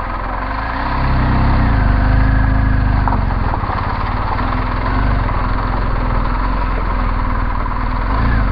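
A motorcycle engine runs steadily during a rough off-road ride on a difficult trail, a loud, close, continuous low drone with a slight swell after the first second and no talking.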